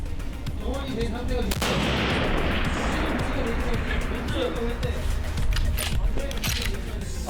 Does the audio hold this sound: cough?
no